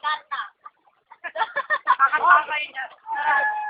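Quail give quick chirping, chattering calls in short bursts, fairly close and loud, with a pause before a longer run of rapid notes.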